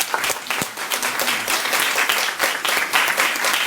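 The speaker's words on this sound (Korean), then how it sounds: "홍사 대표님, 안성사 대표님께 다시 한번 큰 박수 부탁드립니다" An indoor audience at a political talk-concert event gives the two party leaders a round of dense, steady applause, many hands clapping together at an even loudness for several seconds.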